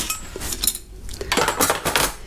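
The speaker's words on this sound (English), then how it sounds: "So I've got a load of like cutlery bits as well that I'd like to have in my drawer." Pieces of cutlery are gathered and dropped into a drawer with close, bright metallic clinks and rattles, a short pause midway, then a busier jangle of silverware.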